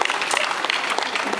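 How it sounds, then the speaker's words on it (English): Spectators at an aquarium dolphin show in Vancouver clap in welcome, a brief, lively patter of crowd applause heard close and fairly loud. "A round of applause to welcome everyone."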